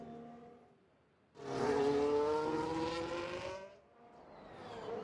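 Race car engines in the video game F1 Manager 2022, a high whining engine note that surges loud as a car passes close, fades, then another starts building.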